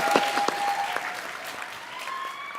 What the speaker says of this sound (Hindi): मेरे भाई के लिए जोरदार तालियां।